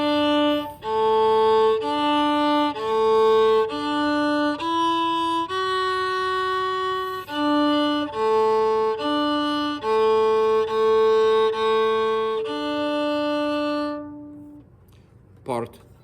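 A bowed string instrument, likely violin, plays part 1 of a triple round alone, a steady sequence of sustained single notes in clear measures, ending in a brief knock after the last note fades.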